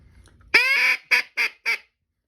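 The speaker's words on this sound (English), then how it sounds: "Let's check it for sound." A Haydel's BB-10 Big Blue teal duck call blown close by: one long nasal honk followed by three short, evenly spaced quacks.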